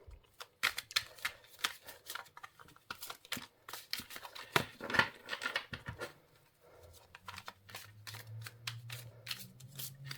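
Tarot cards are shuffled in quick, crisp bursts of riffling and slapping, close and clear, followed by quieter handling and a low hum in the second half.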